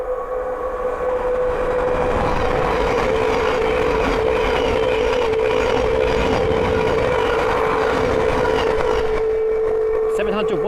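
A Thameslink Class 700 electric train passes at Sandy on the East Coast Main Line, bound from Horsham to Peterborough, its steady loud rumble and rail roar sustained throughout with a constant tonal whine.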